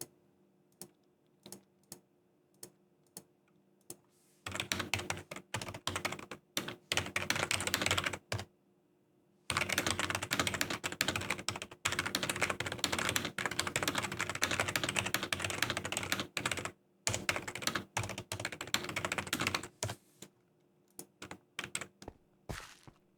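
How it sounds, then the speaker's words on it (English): Close, fast typing on a computer keyboard during a casual game stream, dense rattling clicks in long bursts separated by brief pauses, with no talk. "Don't mind this turning into a casual keyboard ASMR stream, but Zeep cannot hear, so I type."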